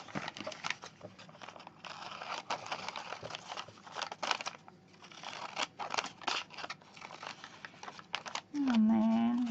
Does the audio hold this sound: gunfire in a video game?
no